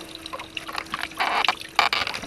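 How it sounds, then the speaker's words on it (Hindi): Water scooped into cupped hands for ablution splashes and trickles in short, close bursts, with dripping between handfuls. "पहला काम क्या है, हाथों में पानी लेना, पानी को देखना पानी का कलर कैसा है।"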